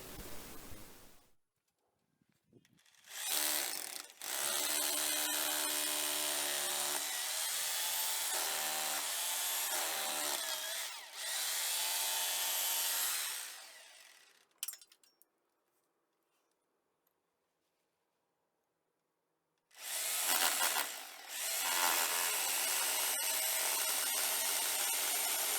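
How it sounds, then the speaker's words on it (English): A power drill whines loudly in two long bursts with a silent pause between, the pitch shifting slightly as it bores holes for wall plugs. "after drilling for the wall plugs is done"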